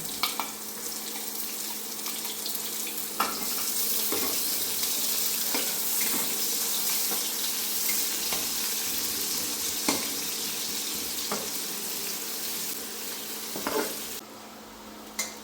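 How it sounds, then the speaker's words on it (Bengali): Chopped onions sizzle and fry in mustard oil in a pan, with steady crackling hiss and occasional stirring scrapes and knocks, close and moderately loud with no talking. "পেঁয়াজটা ভাজা হয়ে গেছে"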